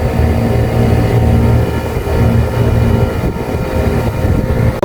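A Fuji Electric 40,000 BTU air conditioner unit starts up after an error 0F repair, giving a steady, loud mechanical hum and whir that runs continuously with no talk.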